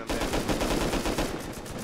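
Gunfire in the video game Rust, a rapid stream of automatic shots in quick succession, loud and close, continuing without pause for nearly two seconds with no voices over it.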